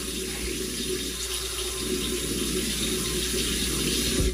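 A bathroom tap runs steadily into a sink, a continuous close hiss and splash of flowing water with no talking over it.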